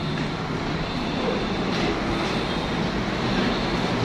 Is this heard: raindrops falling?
no